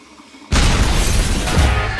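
A bomb explodes in the Roblox video game, a sudden loud blast that bursts in after a quiet moment and holds as a dense, roaring wash of noise to the end.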